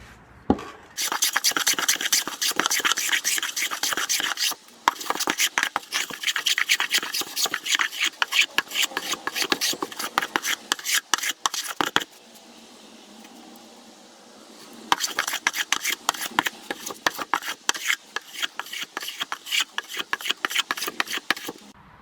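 Repeated rasping strokes of a No. 4 hand plane rounding over the edges of a wooden dovetail tool box bottom clamped to a workbench, dense bursts of close scraping with a brief quiet pause midway.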